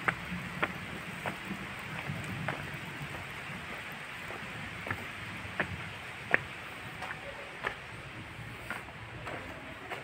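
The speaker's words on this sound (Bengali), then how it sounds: "বাইরে বৃষ্টি পড়ছে।" Rain falls outside St. Catherine's church in Goa, a steady soft hiss with scattered sharp drips and taps landing irregularly nearby, no voices.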